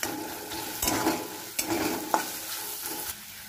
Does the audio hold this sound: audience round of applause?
no